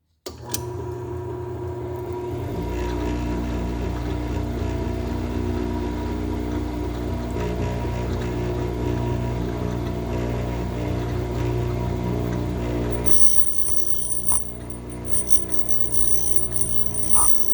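A valve refacing machine grinds an engine valve from a big block Chevy head, with a continuous steady mechanical hum and drone. A sharper, higher whine joins in near the end.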